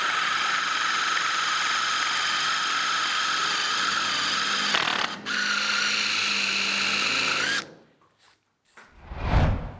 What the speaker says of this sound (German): es gibt auch Forstnerbohrer mit Sechskantaufnahme.